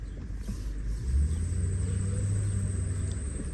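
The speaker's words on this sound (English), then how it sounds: "Love the sound of that transmission." A 2005 Ford Crown Victoria P71 police-package sedan drives along with a low engine rumble and a faint steady high transmission whine riding over it, with the rumble swelling briefly as it pulls.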